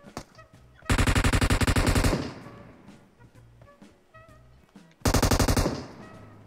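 Loud automatic rifle bursts in PUBG Mobile, two rapid rattling strings of shots separated by a few seconds of quieter footsteps and ambient game sounds.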